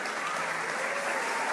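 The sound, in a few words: audience applause at a church conference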